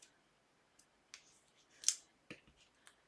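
Small scissors cut red liner tape with a few faint, sharp snips and clicks spread over a few seconds in a quiet room.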